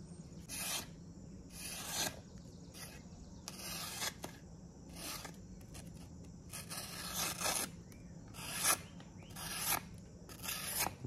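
Repeated short strokes of a Benchmade 940 knife blade drawn across a honing surface to remove the burr, each a brief bright rasping scrape at a steady rhythm, close and fairly quiet with no talk.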